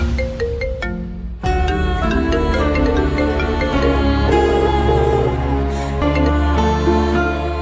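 A mobile phone ringtone plays as a bright, repeating melody, loud and continuous for several seconds, with no talking over it.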